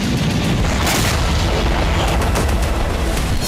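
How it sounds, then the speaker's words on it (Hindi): Loud, continuous blasting roar from an air defense missile intercepting a bunker buster missile during a test, with dense rumbling booms and crackling bursts throughout. "एयर डिफेंस की इस मिसाइल से बंकर बस्टर मिसाइल को नष्ट करने का अभ्यास किया गया"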